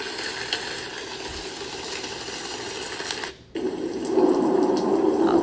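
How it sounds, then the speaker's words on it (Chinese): Rain and jungle-murmur ambience played as baby white noise: a constant close hiss of falling water that cuts out briefly, then returns denser and brighter, with no talking. "这个像雨声跟丛林低语的声音。"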